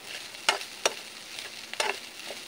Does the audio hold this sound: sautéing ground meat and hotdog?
yes